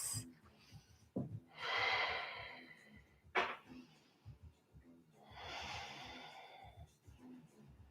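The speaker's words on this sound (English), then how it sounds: "Big open fluid breaths." Deep, open breaths during a seated yoga twist, two long airy exhales swelling and fading in turn with a sharp sniff between them, close and fairly quiet with no talking.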